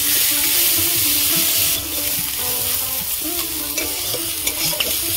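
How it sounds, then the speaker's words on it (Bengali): Cauliflower stir-fried in a wok for vegetable fried rice: a steady loud sizzle with frequent scraping stirs throughout, no voices over it. "ফুলকপিগুলো আমি দিয়ে দিয়েছি, আরো কিছুক্ষণ ভাজবো।"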